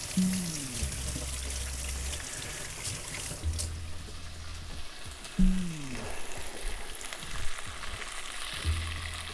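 Sausage, lemon and ricotta pasta frying in a pan, a steady sizzle with soft scraping stir sounds and low clinks that come and go, fairly close and with no voices.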